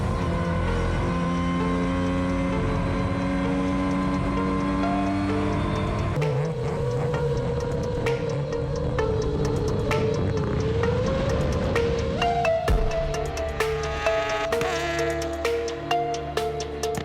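A race car engine revs hard and high, its pitch climbing and shifting through the gears, loud and sustained with rattling bursts near the end.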